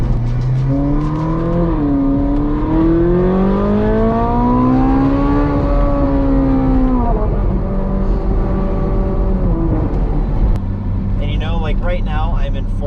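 A Ferrari 458 Spider engine pulls steadily through rising revs, a loud close harmonic whine that climbs, shifts and settles into a lower drone, with a voice speaking toward the end.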